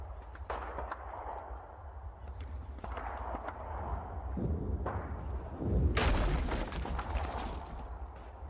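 Gunfire in the Combat Mission: Red Thunder war game, several sharp distant cracks spread over a rumbling battlefield background, the heaviest burst coming late.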